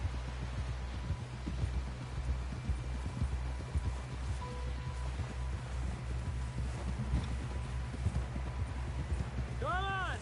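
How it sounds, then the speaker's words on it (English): Hooves clip-clop in a steady trot in the video game Red Dead Redemption 2, beneath a low rumbling background, with a bright tonal sweep near the end. "Someone help John down off this horse."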